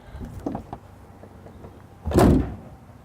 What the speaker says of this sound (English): You want to shut the hood? It's actually pretty simple. You just put it down back into this position